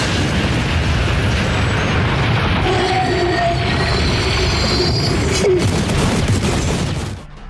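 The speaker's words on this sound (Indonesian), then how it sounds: "Ledakan dari tombak petir no Bakudan berhasil membuat kepala Rainer hancur" A dense, continuous roaring explosion in the anime Attack on Titan, with crackling bursts, loud and sustained for several seconds before cutting off sharply.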